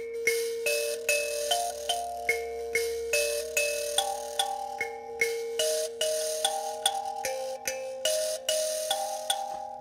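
Mbira plucked in a steady, even pattern of metallic, bell-like notes played a fifth above the root notes, each ringing briefly before the next, close and clear with no talking.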